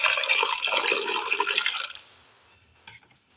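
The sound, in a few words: water poured into pot of pumpkin for cooking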